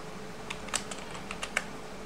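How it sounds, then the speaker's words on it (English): Typing on a computer keyboard: about half a dozen light, close keystroke clicks in an irregular rhythm over a faint background hum. "You can type here Google form"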